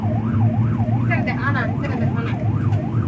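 An ambulance siren wails nearby in a steady rising and falling cycle, loud and continuous, while people talk over it.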